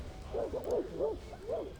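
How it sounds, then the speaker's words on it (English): Dogs bark in the distance within a video game, sounding as a handful of soft, rounded barks spread across the moment, faint and muffled over a low ambient bed. "Pickles hears the barking of dogs in the distance"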